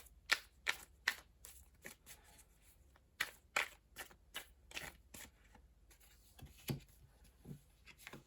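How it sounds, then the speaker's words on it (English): Tarot cards shuffled and drawn from a deck, a run of crisp riffling flicks and slides in quick bursts, close and fairly quiet, with no talking. "So what I'm going to do is pull cards for the different types of hopefulness that we mentioned."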